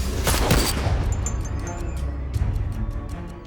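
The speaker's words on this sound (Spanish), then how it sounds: "De pronto, se oyen disparos." A burst of loud gunfire with rapid overlapping cracks and booms at the start, fading into a rumbling, crackling aftermath with faint repeated pops.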